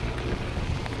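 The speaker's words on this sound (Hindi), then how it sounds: "आते आते खैर बारिश हो गई और मैं भीग गई" Rain falls outdoors as a steady, dense broadband hiss with some wind rumble, continuous and close, with no voices.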